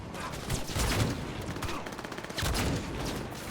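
Gun battle outside the city in Cyberpunk 2077 on the original Xbox One: dense, continuous volleys of rapid gunfire and bursts, loud and steady throughout.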